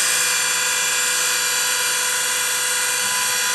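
Carbide cutting tool plunging into a metal workpiece on a lathe, giving a loud, steady high-pitched whine with a constant tonal hum that runs the whole time and never lets up.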